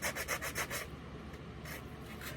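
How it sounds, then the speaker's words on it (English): A soft rhythmic rubbing as dominoes are wiped with alcohol, several quick back-and-forth strokes, then a quieter continuous wipe, close and faint. "and then I wipe them down with alcohol"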